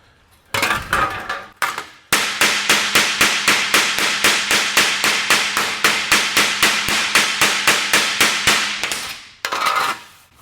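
A 1937 Lincoln Zephyr body panel is hammered against a table used as a dolly: a short burst, a pause, then a long steady run of about thirty loud, evenly spaced metallic blows, followed by a brief final flurry.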